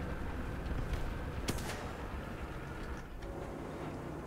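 Shots striking the side armor of a KV-1 tank in War Thunder, one sharp impact crack followed by a fainter thud, heard over a constant loud engine and battle rumble.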